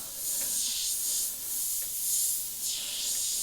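Steady close air hiss from a Sparmax SP.35 airbrush with its trigger locked in the on position, swelling and easing in a few gentle pulses across the whole stretch with no talk.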